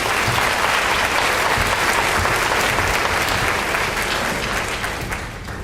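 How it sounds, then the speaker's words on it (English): Audience applauding at a high school senior awards ceremony, a dense, steady wash of clapping from a large crowd that holds strong and only slightly fades toward the end. "Let's give these a round of applause."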